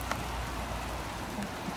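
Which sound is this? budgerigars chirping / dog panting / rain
rain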